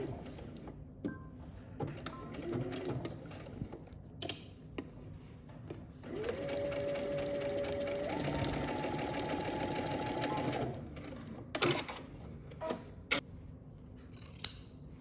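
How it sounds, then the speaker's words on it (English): A sewing machine stitches dress straps in place, starting with scattered fabric handling and clicks, then a sustained whirring run of stitching for several seconds, a brief pitch rise midway, followed by more handling clicks. "I'm just gonna open this back up and stitch them in place, connecting the stitching line to the existing stitching line and secure my straps in place"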